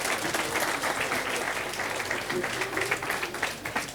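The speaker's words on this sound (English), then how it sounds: "Let's give them a round of applause." An audience at a school science demonstration bursts into brisk, continuous applause, dense clapping filling the room for several seconds, fairly close and loud.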